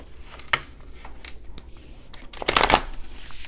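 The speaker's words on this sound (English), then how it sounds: "I'm gonna cut this and then shuffle again" A deck of cards shuffled close by, with soft scraping and tapping that builds into a brisk riffling burst near the end.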